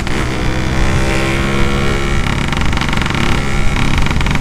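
Yamaha RX-King two-stroke motorcycle with a light aftermarket exhaust, revving loudly at close range in a continuous rasping, crackling drone with small rises in pitch, and no talking.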